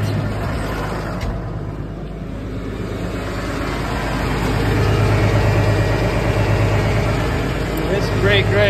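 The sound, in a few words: vehicle engine running, put in gear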